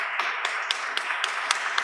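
Sparse, uneven clapping from a small audience at an awards ceremony, scattered claps standing out against a steady hiss, fairly close and moderately loud with no voices over it.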